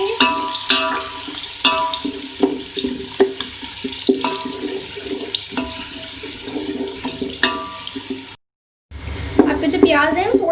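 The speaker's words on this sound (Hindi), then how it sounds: "इसको हम फ्राई कर लेंगे।" Onions fry in ghee for a white chicken pulao, giving a loud, continuous close sizzle with occasional stirring knocks. A brief silent gap comes near the end before the sizzle returns.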